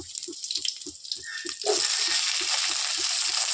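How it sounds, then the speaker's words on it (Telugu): Garlic, cumin and green chillies dropped into hot oil in a pan, bursting into a steady loud sizzle after a quieter stretch with faint rhythmic ticking underneath. "పచ్చిమిర్చి వేసాను. ఇవి బాగా వేగాలి."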